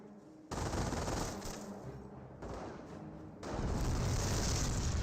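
Greyhound armored car in Company of Heroes firing rapid automatic bursts, loud and continuous, with dense overlapping gunfire and booms swelling in intensity toward the end.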